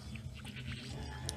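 Goat bleats from the card game Plants vs. Zombies Heroes, a few short wavering cries over a steady low game music bed.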